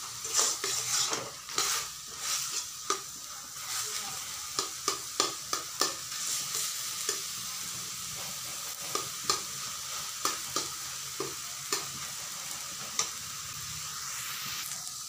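Prawns wrapped in taro leaves are sautéed until the water dries off, with a steady sizzle under repeated sharp scrapes and taps of a spatula against the pan, close by and with no talking.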